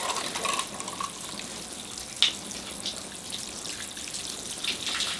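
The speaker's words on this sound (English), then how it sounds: "I'm using the big watering can here." Water poured from a big watering can rinsing the soil of a natal ficus bonsai, a steady close splashing trickle running continuously with a few brighter drips, no voices.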